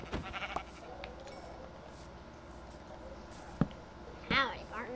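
Sheep bleating in a video game, a couple of wavering bleats near the end over quiet background, with someone talking in the clip.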